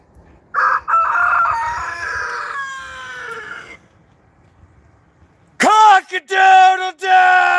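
A rooster crows in two loud bursts, a first rising call, a pause of near silence, then a second sharper crow broken into short harmonic cries.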